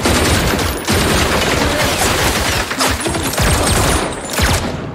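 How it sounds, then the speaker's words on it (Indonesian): Automatic gunfire from an action film about an elite soldier: dense, loud bursts of rapid shots with brief gaps between volleys, no voices over it. "mereka langsung memberondong tembakan ke arah Markus dan kawan-kawan"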